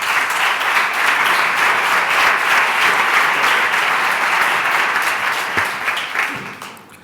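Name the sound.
audience applause welcoming the minister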